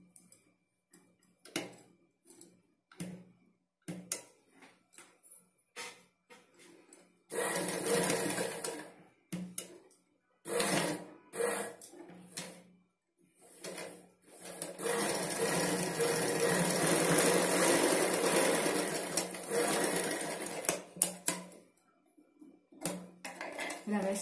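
Sewing machine stitching the front part of a blouse, running in short bursts at first and then in a long continuous loud run, with brief pauses between stitching passes.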